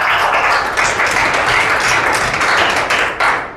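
Audience at an AWPL business plan presentation claps loudly and steadily, a dense sustained round of applause filling the room with no talk over it, tapering slightly at the end.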